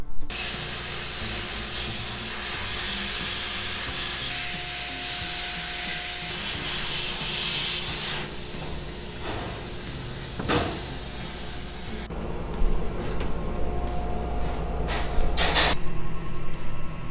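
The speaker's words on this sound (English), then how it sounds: "I'd like to do now is to have them in the bead blaster and just take that off a little bit and just clean them up" Bead blaster hissing steadily as it cleans brazed Aermacchi motorcycle clip-on handlebars, a loud continuous rushing spray with brief pauses and shifts in tone, ending in rougher bursts.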